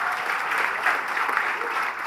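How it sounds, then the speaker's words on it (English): Dense, steady applause from an audience at an active-ageing panel event, a continuous wash of many hands clapping at once, loud and close with no gaps over the short stretch. "So big round of applause for yourselves,"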